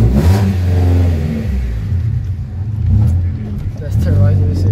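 A loud Acura Integra engine revs and roars through exhaust headers in waves with a harsh, rumbling exhaust note, while people talk over it.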